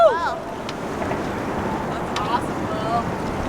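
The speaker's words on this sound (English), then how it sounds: "here comes the wind again." Wind rushes steadily over a sailboat out on San Diego Bay, a broad continuous roar with gusty swells, while voices briefly call out near the start.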